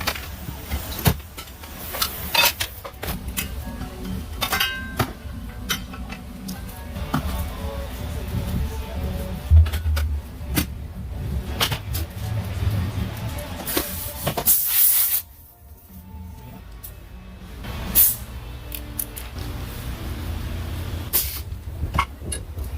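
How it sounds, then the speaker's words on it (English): Mechanic changing a punctured tyre in a workshop, with loud hissing air bursts, pneumatic tool rattles and clanks of metal, steady and close throughout. "this is the process of a mechanic changing a tire that has been punctured"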